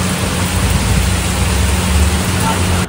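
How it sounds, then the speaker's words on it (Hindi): Rain pours down in a loud, steady, dense hiss close by, with a faint low hum underneath. "मैं आई हूँ फिर बारिश आ गई"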